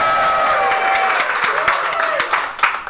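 A live audience at a US hair-product launch cheers together on a count of three, a dense burst of voices and some clapping that stays loud and steady for about three seconds.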